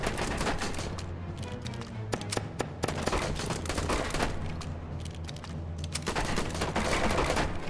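Rapid bursts of stick-gun fire in a first-person shooter video game, dense crackling volleys with sharp individual shots repeating steadily throughout, loud and close with no talking.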